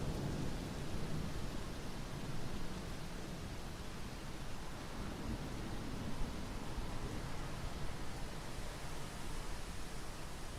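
Steady rain falls as a soft, even hiss that sounds fairly distant and faint, with a low rumble underneath. It goes on unbroken with no voices.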